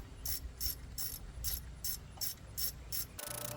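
A hand ratchet snugging down injector bolts on a Cummins 5.9 diesel, about nine quick bursts of sharp clicking in an even rhythm, close and fairly quiet, ending with a brief different mechanical sound.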